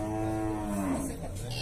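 A cow at a cattle fair lets out a single drawn-out moo, loud and near, against a busy background.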